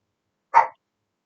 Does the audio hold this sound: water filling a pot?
no